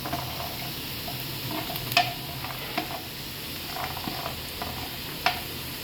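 Broccoli and finely chopped onion frying in a pan for a broccoli and peas curry, a quiet steady sizzle broken by a few sharp spoon taps and scrapes from stirring, close up, with no voices.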